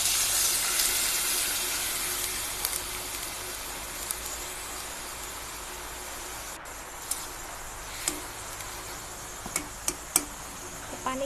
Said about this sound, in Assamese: পানীখিনি ঢালাৰ সময়ত